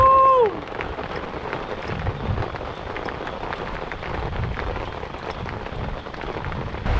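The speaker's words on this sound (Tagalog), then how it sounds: "Dahil napakalakas ng ulan, tingnan nyo naman." Heavy rain pours down at a cold mountain campsite in HD Mountain Ville, Benguet, as a dense, continuous hiss and patter with a brief pitched voice at the very start.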